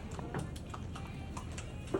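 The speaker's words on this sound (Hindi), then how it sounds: "लोहे की कड़क नाल लगी है इनके पैरों में और वो नाल बाहर की तरफ मुड़ी हुई है।" Hooves shod with hard iron horseshoes clip-clop on the ground in a steady walking rhythm, close and distinct, with faint voices in the background.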